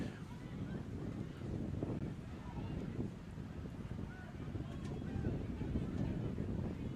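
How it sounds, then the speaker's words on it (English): Wind buffets the microphone at an outdoor high school football game, a steady low rumbling roar that fills the whole stretch, with faint voices blurred underneath. "Wind picking back up."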